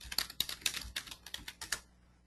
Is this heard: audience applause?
no